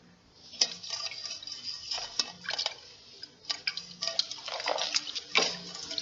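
In the video game The Book of Unwritten Tales 2, water poured into a bowl, heard as a run of close, light splashes and drips in irregular bursts with quiet gaps between.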